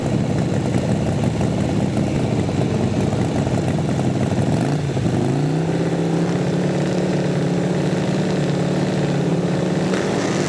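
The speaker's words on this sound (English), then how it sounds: "Joey Sternati tuned bike going against the husband and wife team of Andy and Kathy Simon on the O'Reilly lane" A Harley-Davidson Sportster drag racing motorcycle at a drag strip roars loudly and steadily, shifting to a higher sustained engine pitch midway through the run with no talking.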